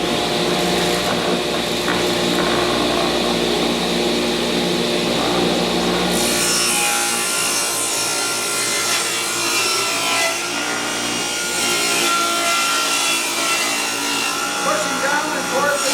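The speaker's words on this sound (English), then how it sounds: "I'm going to have to cut my platform 3/4 of an inch thinner too" Steady, loud sawing through wood while trimming a platform for a DIY corner sink base kitchen cabinet, a continuous rasping cut that shifts tone partway through and keeps going without pause.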